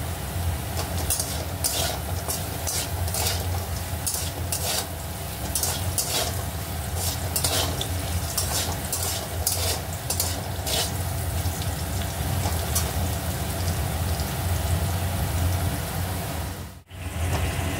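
Potatoes fry in a pan with a pinch of salt during Indian-style home cooking, giving a steady, close sizzle sprinkled with sharp pops and crackles, with no talking.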